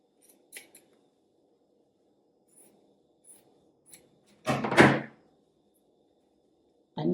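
Scissors snip through shirt fabric, cutting a small cuff piece off a shirt, with a few faint clicks of the blades before one loud, close cutting burst and another beginning at the very end.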